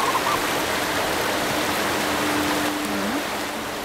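A river flows steadily below a bridge in the video game The Creature of Kapu Cave, a constant broad rush of water heard alone, with a faint thin tone gliding through near the end.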